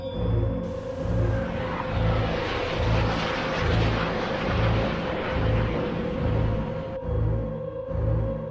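Two jet aircraft flying overhead produce a loud, continuous roar with a rhythmic low throbbing underneath, which drops off abruptly near the end.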